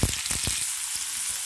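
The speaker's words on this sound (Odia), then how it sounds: "ତାପରେ ଆମେ ପିଆଜକେ ଲାଲ କରିକି ଭାଜି ଦେମା" Onions frying in hot oil with cumin seeds, a close, continuous crackling sizzle with a few quick stirring bursts at the start.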